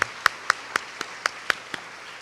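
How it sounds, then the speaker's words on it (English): Sparse, evenly spaced single claps, about eight sharp hits in two seconds, from a Teachers College orientation audience acknowledging the new class, with no other sound around them. "So let's have a brief round of applause for your accomplishments."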